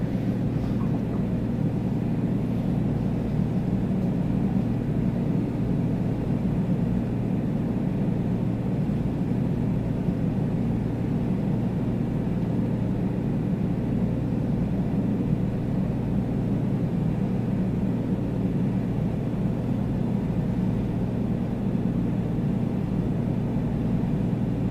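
A light aircraft's engine holds a steady, loud droning roar in cruise with no breaks, flying across the Australian outback past Pipalyatjara.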